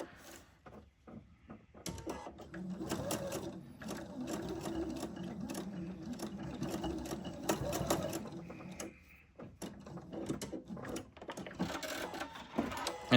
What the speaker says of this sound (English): I'm just going to run a seam right next to the one that I just sewed